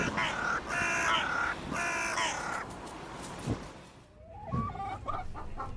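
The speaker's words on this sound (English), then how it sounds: "The word cluck refers to the short, low sound that a chicken makes." Chickens cluck in short bursts through the first half, then a rooster crows in a rising, harmonic call near the end, fairly close and with no talking.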